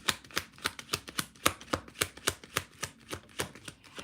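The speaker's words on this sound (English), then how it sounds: "Let me just shuffle these cards and grab a card." Tarot cards are shuffled by hand in quick, rhythmic riffling taps, about four per second, close and fairly quiet with no talk.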